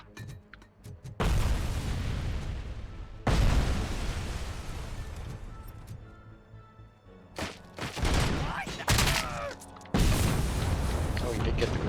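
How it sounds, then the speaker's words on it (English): A grenade blast in the Robocop Rogue City video game, with broadband booming bursts amid ongoing gunfire and combat noise, several loud thumping detonations spread across the clip, with voices in the background. "Oh, he did get the grenade off though."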